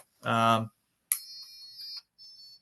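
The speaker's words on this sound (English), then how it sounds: "it makes an intermittent sound, but then sometimes it goes into a flatline beep" A Dolphin Neurostim treatment device gives a buzzy tone, then a long steady high flatline beep lasting about a second, followed by a shorter, fainter beep.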